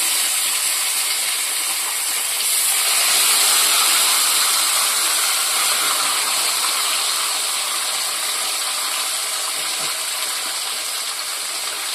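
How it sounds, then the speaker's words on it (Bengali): Whole fish fry in already-hot oil in a kadai, giving a steady, bright hiss with dense crackling that swells slightly partway through and runs on without talk. "তেল তো গরম হয়েই আছে, আমি ওই কড়ায় মাছগুলো গোটা গোটা ভেজে নেব।"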